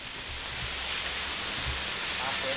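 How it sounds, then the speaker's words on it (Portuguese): A waterfall, the Cachoeira da Mãe d'Água in Baependi, Minas Gerais, roars with a steady broadband rush. It is heard from a forest trail approaching it, with faint low rustling beneath the constant noise. "Já estamos escutando o barulho da cachoeira."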